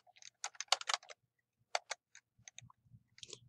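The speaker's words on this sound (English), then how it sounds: "I'm going to run a new search, and I'm going to type in measures" Typing a search on a computer keyboard, quiet clusters of quick key taps with short pauses between bursts, close and isolated with no voices.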